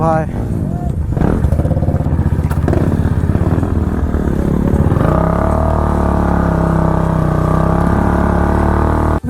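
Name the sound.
Benelli superbike drifting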